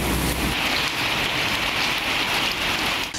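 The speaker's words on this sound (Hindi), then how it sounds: "खुशाब में बारिशें शुरू हो गई हैं।" Steady rain falling during a thunderstorm in Khushab, Pakistan, a dense continuous hiss of drops on surfaces with a low rumble at the start, no voices.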